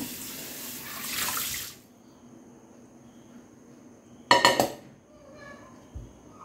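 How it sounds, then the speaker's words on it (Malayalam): Running tap water splashes while a pressure cooker is rinsed at a kitchen sink, a steady wash for the first two seconds, then near-quiet, then a brief burst of clattering metal and splashing. "അതിന് വേണ്ടിയിട്ട് കുക്കറൊന്ന് കഴുകിയെടുക്കട്ടെ"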